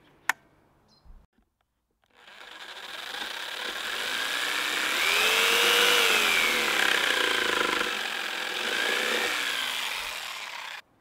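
A power saw cuts a slot in a piece of wood: after a couple of brief knocks, a close, loud continuous buzzing cut starts and runs for about nine seconds, its pitch rising and sagging as the blade works.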